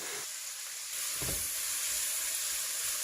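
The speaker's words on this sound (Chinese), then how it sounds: "再下入鱿鱼，快速翻炒均匀后转小火开始调味" Squid hits a hot wok already holding red pepper and celery, sizzling in a steady, fairly quiet hiss that swells slightly as the stir-fry gets tossed.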